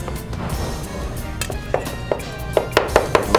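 A knife mincing food on a cutting board for pasta pomodoro: sharp chopping thwacks, sparse at first and then quickening into a steady run of close, crisp knocks over a low background hum.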